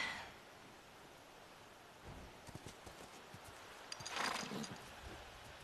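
Horse hooves clip-clop faintly in The Last of Us Part II, a short run of soft, uneven steps over quiet ambient noise, followed by a slightly louder rustle of movement.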